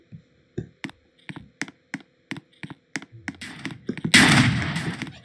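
Rapid, evenly spaced gunshots from a Roblox shooter game ring out one after another, building into a louder, denser burst of fire and noise near the end.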